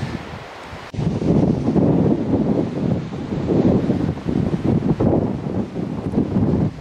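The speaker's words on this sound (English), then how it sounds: "I'm gonna try and let the wind push me across the ice" Strong wind blows across ice during a splitboarding tour, a loud, gusting roar with rumbling microphone buffeting that surges and eases throughout.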